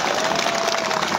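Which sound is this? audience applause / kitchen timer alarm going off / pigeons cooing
audience applause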